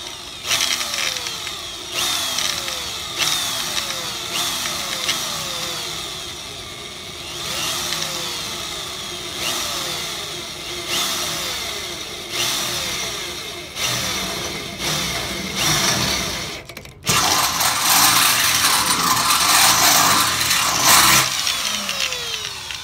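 A power drill whirs in repeated short bursts into a car fender, rising and falling in pitch, followed by a louder, steadier stretch of drilling at the end.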